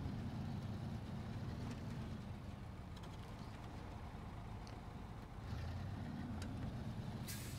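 In the video game SnowRunner, a Western Star 4964 truck engine rumbles low and steady under load as it pulls with the handbrake off, a continuous deep drone throughout.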